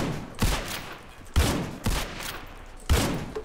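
Gunshots in Roblox Criminality: four loud, sharp cracks at uneven intervals, each followed by a short, rumbling decay.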